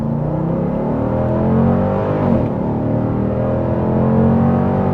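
A 2025 Dodge Durango SRT 392 three-row SUV with a naturally aspirated V8 pulling hard in track mode, a loud continuous deep engine roar building and holding steady from inside the cabin.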